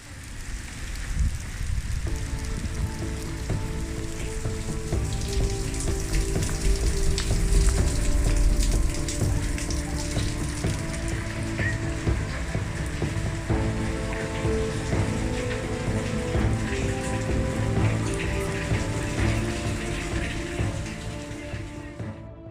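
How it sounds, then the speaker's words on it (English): Steady rain falls on the Royal Mile in Edinburgh, a dense continuous hiss that holds evenly for the whole stretch. A tonal layer of street music or traffic runs underneath, and nobody speaks. "here now in the rain, even more wet than I was earlier"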